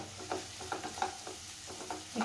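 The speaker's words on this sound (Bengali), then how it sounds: "একটু নাড়িয়ে দিলাম যাতে পুড়ে না যায়" Ground spices with black pepper and salt being stirred in a hot pan for mini samosa filling, soft rhythmic scraping strokes over a low sizzle, close and quiet, with no voices.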